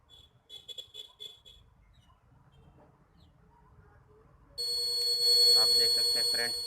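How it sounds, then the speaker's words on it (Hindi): A homemade DIY fire alarm buzzer switches on abruptly partway through after quiet handling noise, giving a loud, steady electronic tone with a warbling edge that holds to the end. "ये हमारा फायर अलार्म चालू हो गया फ्रेंड्स,"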